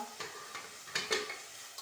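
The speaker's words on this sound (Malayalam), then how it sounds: "നമ്മൾ ഇതാ ഇളക്കണുണ്ട് കേട്ടോ" Tomato, onion and green chilli stirred in a clay pot, a soft scraping with a few brief swishes and light sizzle, close and fairly quiet, no voices.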